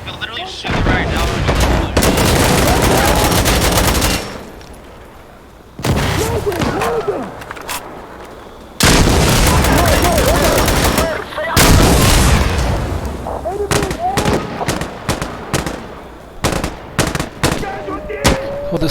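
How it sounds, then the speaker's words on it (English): Gunfire in the shooter game Insurgency Sandstorm, loud and sustained with long automatic bursts, heavy booming shots and sharp single cracks, broken by a few brief lulls. "There's someone shooting me."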